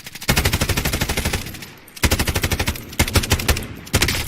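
Rapid automatic gunfire in Call of Duty Warzone, an MK9 rifle, rattling out in loud close bursts separated by brief pauses, with no talking over it.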